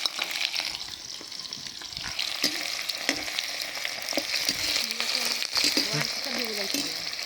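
Chopped onions crackle and sizzle in hot oil in a pan while goat meat is being prepared. The frying hiss holds steady throughout, broken by small stirring clatters, with no talk.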